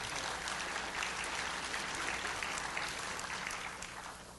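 An audience at a lecture on the Martin B-26 Marauder applauds steadily, a broad, even wash of many hands clapping from a moderate distance that tapers off at the end, with no voices over it.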